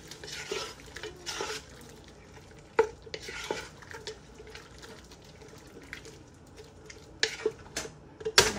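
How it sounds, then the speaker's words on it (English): Spoon stirring salt and about a teaspoon each of seasonings in a cooking pot, giving close, irregular scraping and clinking strokes with brief pauses between them and no talking. "Give it a stir."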